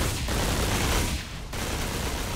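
Dense rapid gunfire from the video game Metal Arms: Glitch in the System crackles in loud, continuous bursts with a brief dip before resuming.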